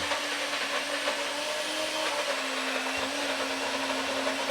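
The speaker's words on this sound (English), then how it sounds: "put it in the food processor, get it mixed up real good." Steady whirring motor of a food processor running continuously, loud and close, with a constant hum and no voices.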